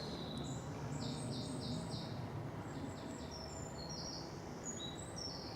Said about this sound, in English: Just a couple of wrens there in the distance.